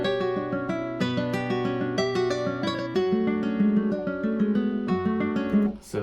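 Spanish guitar melody for a trap beat, run through an RC20 vinyl wobble effect, plucked notes and chords in a steady flowing line with slight pitch warble, clear and alone with no voices.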